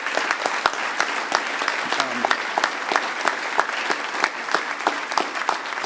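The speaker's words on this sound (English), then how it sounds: "Huge round of applause for the red shirts," Conference audience at a hacker convention closing ceremony giving the volunteers a loud round of applause, sharp individual claps popping out of a continuous crowd clatter throughout.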